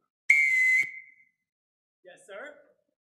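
A single sharp, loud whistle blast of about half a second, shrill and steady, called out to summon the household staff, followed after a pause by a brief murmur of voices.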